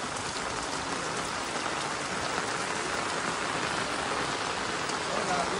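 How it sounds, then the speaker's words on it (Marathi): Steady rain falls in Konkan, Maharashtra, a dense, even hiss of drops on surfaces that holds at the same level throughout with no pauses. "पाऊस आलाय जरा, घरी चाललोय."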